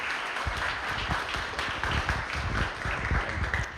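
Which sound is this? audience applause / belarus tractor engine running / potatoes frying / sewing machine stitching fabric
audience applause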